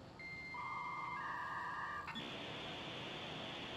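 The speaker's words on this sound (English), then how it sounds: "Interesting for a dial tone to be used." In the video game Control, a telephone dial tone plays as a steady electronic beep, with stepped tones shifting before settling into a continuous hiss-like hum, fairly faint with no talking.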